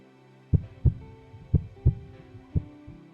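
A steady heartbeat thumps in paired beats, lub-dub, repeating about once per second, deep and close, with nothing else in the background.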